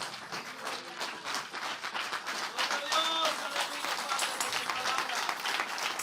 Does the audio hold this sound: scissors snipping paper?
no